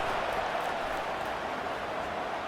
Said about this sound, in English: this crowd will blow out a vocal cord to help this defense